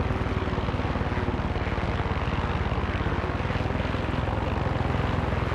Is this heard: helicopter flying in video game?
yes